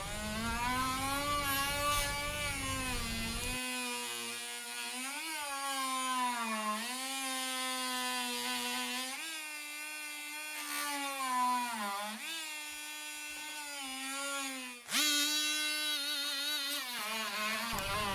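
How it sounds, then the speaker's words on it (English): An oscillating multi-tool with a worn old blade cuts into wood for a mortise, giving a steady, close buzzing whine whose pitch wavers and dips as the blade bites, heard alone with no voices. "I think the multi-tool actually helped with this part of it"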